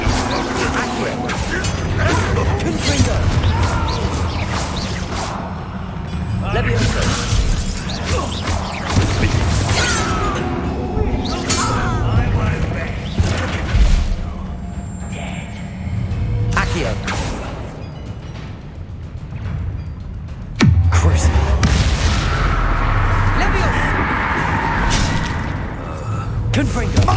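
Confringo fire spells blasting during combat in Hogwarts Legacy, a string of sharp crashing impacts and booms scattered across a busy battle soundscape, with a heavy blast near the end and voices talking throughout.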